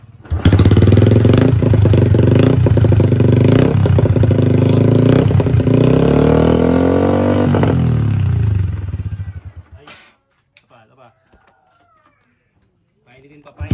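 A motorcycle exhaust fitted with a rapid backfire module revs hard and close, with crackling pops over the engine roar for about nine seconds before it cuts off to quiet.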